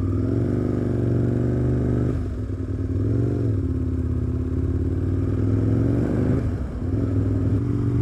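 Aprilia RSV 1000 V-twin motorcycle engine idling hot and loud, a steady deep throbbing rumble with a brief dip in revs partway through, close up with no talking.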